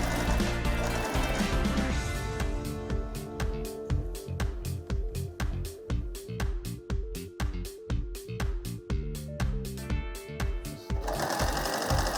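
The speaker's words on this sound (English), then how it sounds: "Start with a back stitch and sew." Sewing machine stitching fabric with inset frills, starting with a back stitch: a loud, close, rapid mechanical chatter of the needle in an even rhythm, running continuously for the whole stretch.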